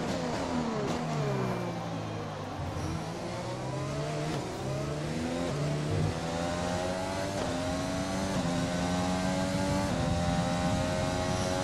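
A Formula 1 car engine in F1 2020 revs and accelerates on track at Bahrain, its high-pitched whine climbing through repeated gear changes, loud and continuous with no talk.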